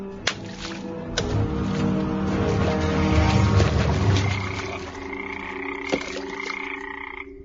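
Frogs croak continuously in a dense, overlapping chorus, steady and fairly loud throughout, with several raspy calls standing out over the rest.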